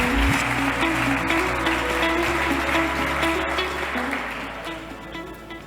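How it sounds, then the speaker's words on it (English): Audience at a startup pitch competition applauding, a sustained wash of clapping over a steady low musical bed, tapering off toward the end. "Ladies and gents, please give a huge round of applause for our first pitcher."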